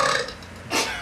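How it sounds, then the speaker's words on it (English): A single rough, drawn-out burp sounds close to the microphone, noisy and raspy. "You have to be able to burp twice as loud as that."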